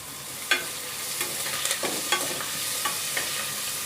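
Garlic paste, green chili and curry leaves fry with spices in a pan for Rajasthani tadka kadhi, giving a steady close sizzle broken by sharp scraping clicks from stirring.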